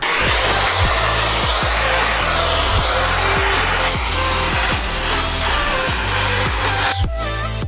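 A heat gun blows hot air on lift parts of a 2017 Jeep Wrangler JK, a steady loud rushing roar with a low rhythmic pulsing beneath it that continues throughout and shifts near the end.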